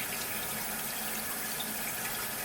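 Warm water running steadily from a tap as a clay mask is rinsed off a face at a sink, a continuous close splashing hiss with no voices.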